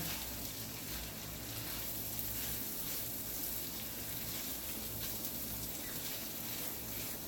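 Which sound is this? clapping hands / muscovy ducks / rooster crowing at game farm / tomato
tomato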